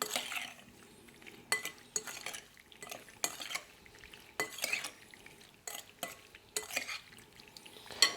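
Brandy cherry cake ingredients are mixed in a bowl, a series of quiet scraping and tapping stirs with occasional light clinks of utensil against the bowl.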